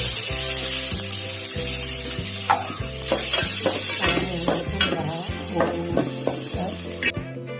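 A crushed paste of coriander leaves, ginger and garlic sizzles in a pan for Kerala-style chicken curry. Repeated stirring scrapes sound over steady frying, with background music running underneath.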